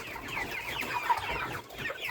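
Broiler chickens about 48 days old fill a poultry house with continuous overlapping clucking and chattering, a busy flock sound at a steady moderate level with no voices.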